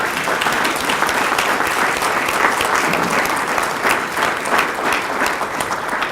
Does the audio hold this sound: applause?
yes